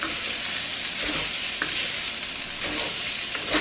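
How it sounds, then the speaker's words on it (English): Rice is stirred in a sizzling pan while seafood cooks. A steady, close frying hiss runs throughout, with soft scraping strokes from the stirring. "just keep stirring the rice"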